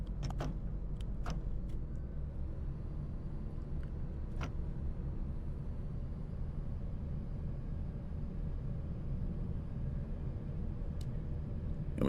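A Class 170 diesel multiple-unit train in a train simulator game pulls away gently, giving a steady, even low engine drone and rumble with a faint whine above it, and a few brief clicks scattered through.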